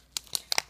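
Crinkly plastic foil of a Blue Shock Japanese trading card booster pack being torn open, a few short crackling rips in quick succession, close and fairly soft, with no talking.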